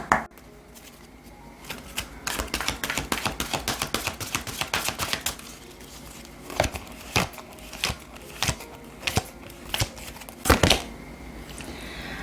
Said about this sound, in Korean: 오라클 카드 한 장 보도록 하겠습니다